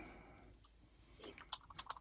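Quiet computer keyboard typing in a home setting, a short burst of soft, irregular key clicks near the end after a near-silent stretch, with no talk.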